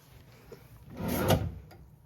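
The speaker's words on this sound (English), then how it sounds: "Drawers if you use them." A hotel room drawer in a king bed room slides open and shut once, a soft wooden rub swelling to a peak midway, close and fairly quiet, with no talking.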